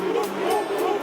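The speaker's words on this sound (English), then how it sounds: "the way they're shouting every time Sean Wright-Phillips gets anywhere near the ball" Spanish football crowd in a stadium shouting at England players, a sustained roaring chant with rhythmic swells, distant and continuous.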